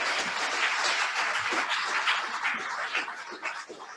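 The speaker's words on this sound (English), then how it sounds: "I would ask you to give them a big round of applause for attending here today" Audience at a city mayoral forum applauding the speakers, a steady, dense patter of many hands clapping, fairly loud and continuous, tapering slightly at the end.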